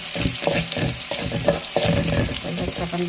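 Onions stirred and sautéed in a pan, a continuous close crackling sizzle broken by repeated rhythmic scraping strokes of the spoon, with no voice over it.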